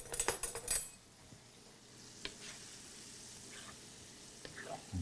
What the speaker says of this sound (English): Definitely can hear it frying.